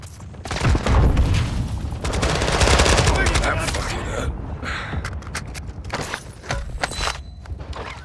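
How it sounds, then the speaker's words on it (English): Enemy gunfire in a shooter game, loud rapid bursts of automatic weapons fire and scattered single shots, heaviest early then continuing in sharp intermittent cracks, with a voice speaking over it. "You are taking effective fire."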